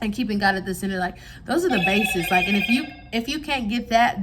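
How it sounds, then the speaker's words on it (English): A mobile phone rings with a bright, repeating electronic tone beneath someone talking, the ringtone sounding clearly through the middle of her speech. "That was my phone."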